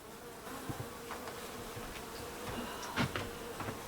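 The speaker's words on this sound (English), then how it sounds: "those boxes that you see right there and hear buzzing are 2 packages of bees" A low, steady hum of many honeybees buzzing inside two package boxes, close by, with occasional faint knocks and rustles.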